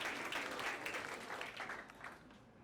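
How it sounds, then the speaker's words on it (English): A university audience at a hypnotist show claps in a dense burst of applause that slowly fades, heard from some distance and fairly faint. "Give them a round of applause, ladies and gentlemen."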